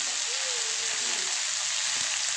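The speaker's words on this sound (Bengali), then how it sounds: "এখানে আমি পুরো বাঁধাকপিটা আলু সমেতই দিয়ে দিলাম।" Cabbage and potatoes frying in hot oil with whole garam masala spices and bay leaf, a steady close sizzle that hisses evenly throughout, with a faint brief tonal squeak partway through.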